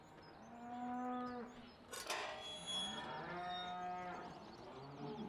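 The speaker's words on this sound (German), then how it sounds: "Und die Kühe sind natürlich hier im großen Kuhstall." Cows mooing in a large cowshed in Farming Simulator 17, several long, loud, drawn-out moos one after another, close by and with no talk over them.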